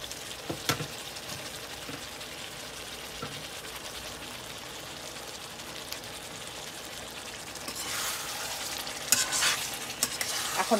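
Eggs fry in curry masala in a pan, a soft steady sizzle under repeated stirring and scraping, growing brighter and more bubbly toward the end.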